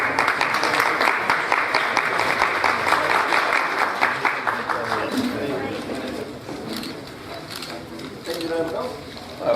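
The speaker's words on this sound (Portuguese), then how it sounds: "Uma salva de palmas para o comendador." Applause for an honoree at a formal Brazilian heraldry and humanities ceremony: dense, steady clapping from a seated audience that thins slightly toward the end, with a voice speaking over it.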